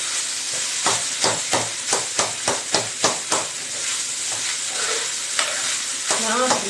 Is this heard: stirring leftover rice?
yes